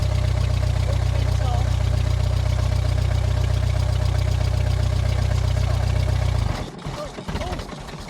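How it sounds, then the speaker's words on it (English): A Ford Model T engine runs in top gear with a loud, steady low chugging throb and mechanical clatter, then cuts off sharply near the end, leaving quieter rattles as a voice speaks. "You're driving a Model T."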